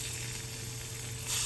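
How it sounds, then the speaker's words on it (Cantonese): Bacon sizzles in hot oil in a wok, a steady close crackling hiss that keeps going with no talk, swelling slightly louder at the very end. "煎下啲煙肉先。"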